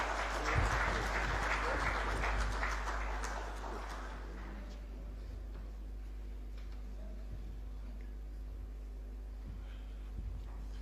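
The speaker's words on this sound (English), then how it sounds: "Give him a round of applause." An audience applauds the chief guest at an International Memon Organization event, with moderately loud clapping for about four seconds that then fades to a quiet room tone with faint ticks and a low hum.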